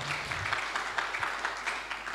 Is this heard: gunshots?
no